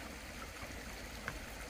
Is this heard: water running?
yes